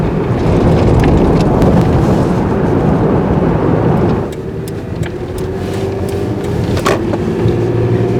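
Toyota 4Runner fitted with a Sprint Booster throttle controller in race mode, a loud engine roar that drops off sharply about halfway through, leaving a lower running hum with a few clicks.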